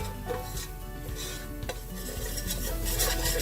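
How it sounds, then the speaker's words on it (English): A flour and oil roux being stirred in a pan over a low flame: soft, continuous scraping and stirring close by, with faint sizzling underneath. "Keep stirring continuously."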